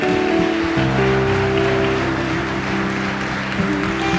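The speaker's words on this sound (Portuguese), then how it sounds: "Você pode aplaudir ao Senhor?" Brazilian church congregation applauds in a steady, dense wash of clapping, heard over sustained organ or keyboard chords that change pitch partway through.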